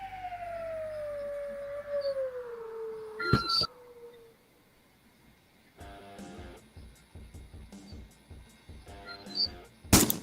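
Slide whistle sound effect: a loud falling pitch glide sweeping downward over about three seconds, ending in a sharp crack, followed by scattered clattering effects.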